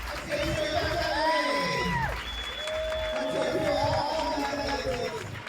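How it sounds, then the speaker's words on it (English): Crowd at a roller derby game clapping and cheering, with whistle-like tones and scattered voices in a loud, echoing arena. "So I'm hearing some clapping."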